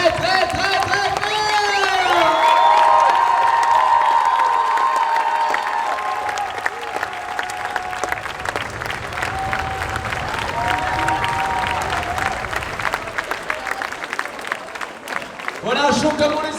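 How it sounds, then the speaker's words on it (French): Convention crowd at a Moulin Rouge cosplay stage show clapping and cheering loudly, with whoops and shouts over steady applause, while a voice talks through the noise near the end. "peut encore les applaudir très très très très fort"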